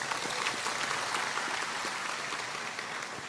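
An audience at a Maulid religious gathering gives a steady round of applause, dense clapping at moderate distance with no voices over it.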